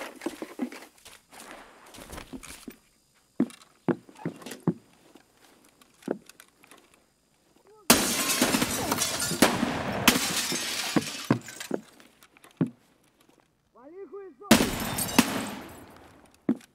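Gunfire in the shooter game Escape From Tarkov: scattered single shots and short sharp bursts crack out, with two loud sustained stretches of firing, separated by quiet gaps and footsteps.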